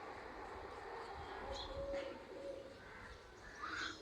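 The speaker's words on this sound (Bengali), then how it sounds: "দেখো পায়রা আর চড়ুই একসাথে।" Pigeons cooing alongside chirping sparrows as both flocks feed together, soft low coos and brief high chirps over steady outdoor background noise.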